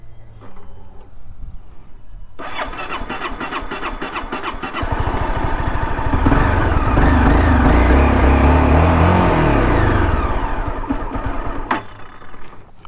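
A 2011 Honda CBR250R motorcycle with a nearly empty fuel tank cranks, then fires and runs, its single engine note building to a loud steady idle and revving before cutting out near the end.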